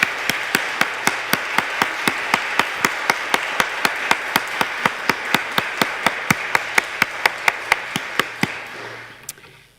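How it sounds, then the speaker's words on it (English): Audience at a parish annual meeting applauding: a steady, even run of sharp claps at a regular pulse over a broad wash of clapping, lasting about nine seconds before fading out. "give them a round of applause"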